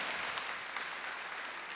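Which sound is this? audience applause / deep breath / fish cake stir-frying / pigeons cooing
audience applause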